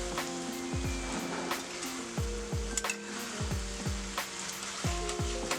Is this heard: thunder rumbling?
no